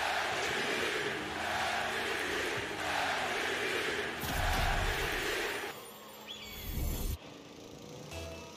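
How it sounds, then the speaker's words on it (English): A crowd cheering and roaring continuously, loud and dense, with a thump and a drop in level near the end as the noise thins. "You hear the crowd."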